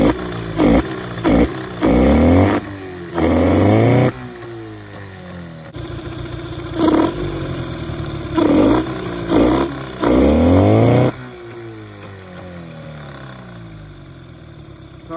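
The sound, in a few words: engine running after fuel filter work, likely outboard motor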